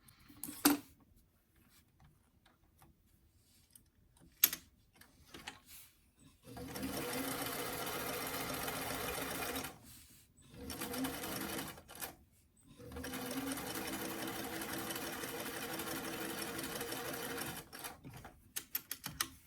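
A sewing machine stitches a doll dress to its lining in several sustained whirring runs, with a short pause between them, after a quiet start with light clicks and fabric handling.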